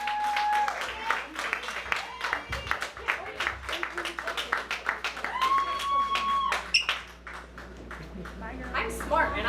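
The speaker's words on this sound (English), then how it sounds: "Get a round of applause going." Applause at an open mic night in a bar, scattered clapping from a small audience running under a talking voice, with a few whoops and tones mixed in.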